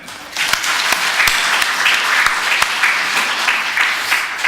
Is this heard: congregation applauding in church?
yes